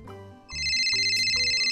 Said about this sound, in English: Oh, my phone, hold on.